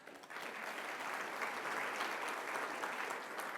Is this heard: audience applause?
yes